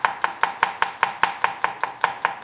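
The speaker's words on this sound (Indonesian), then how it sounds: "kita potong-potong" Knife chopping garlic cloves on a cutting board, a steady run of about a dozen sharp, evenly spaced chops, close and clear with no talking.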